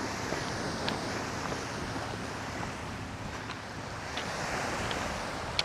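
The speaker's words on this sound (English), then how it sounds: "Out here you can see the waves are crashing a little bit." Ocean waves crash on the shore at the tip of a point in Nova Scotia near an old wind farm, a steady broad wash of surf mixed with wind noise and no voices.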